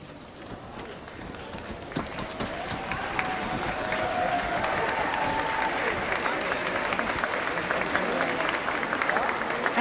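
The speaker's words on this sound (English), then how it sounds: "join me in giving them a heartfelt round of applause for everything they have done for you" Graduation ceremony crowd applauding the standing parents and families, a broad wash of clapping that swells gradually and stays loud to the end, with some voices mixed in.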